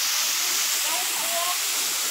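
A waterfall along a hiking trail gives off a steady, broad rushing hiss that fills the whole clip. A few faint tonal traces and a hint of voice sit in the background.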